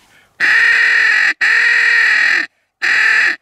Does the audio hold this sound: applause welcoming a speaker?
no